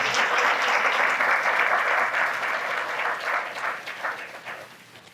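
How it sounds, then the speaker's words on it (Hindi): A church congregation clapping in thanks to God during a sermon: dense, steady applause that holds, then thins and fades over the last couple of seconds. "तालियां बजा के प्रभु का धन्यवाद।"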